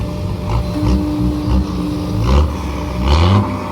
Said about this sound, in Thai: ให้ฟังโกเบก่อนแม่